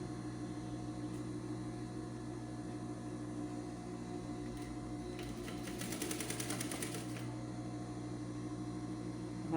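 A sewing machine stitching a blouse with gathered fabric hums quietly and steadily, with a brief burst of faster needle chatter near the middle.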